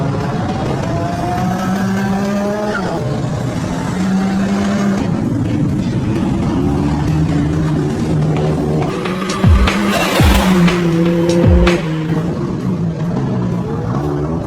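Restored Nissan S13 Silvia drift car driving on a road, its engine loud and close, rising and falling through several gear changes and revs, with a sharper burst of revving near the end.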